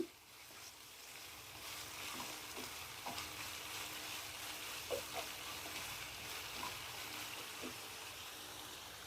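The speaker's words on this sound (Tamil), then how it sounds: "நல்லா வெங்காயம் வதங்கி வரட்டும்." Onions sautéing in a pan for a paneer gravy make a soft, steady sizzle, with quiet spatula scrapes and taps spaced every second or so, faint and without speech.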